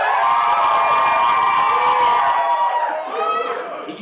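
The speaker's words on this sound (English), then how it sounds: "applaud now" A school crowd erupts in loud cheering and shouting during a hat contest, with bright sustained yells from many voices that fade toward the end.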